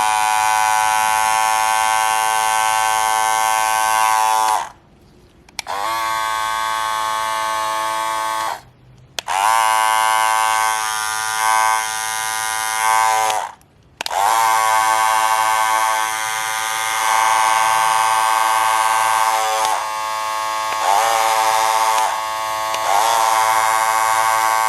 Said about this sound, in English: I'm going to show you guys what my other clipper sounds like compared to this one